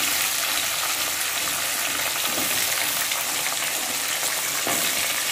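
Cut papaya and potato pieces hit hot oil in a pan, setting off a loud, steady sizzle that holds for several seconds, with faint stirring scrapes and no talking.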